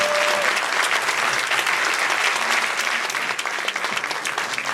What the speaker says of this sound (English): So please join me in a round of applause for welcoming screenwriter and director Nicholas Meyer.